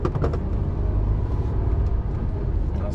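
A car rumbles past on the road, heard from inside a truck cab as a deep, steady engine and road roar with low rumble throughout.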